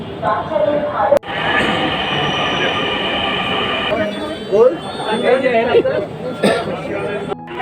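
A Dhaka metro train rolls along with a steady rumble and high whine, a sharp clunk near the start, and people chattering over the noise.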